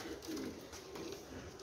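A Cheena Phula pigeon gives low, rolling coos close by, one phrase fading into a second softer one, with no voices over it.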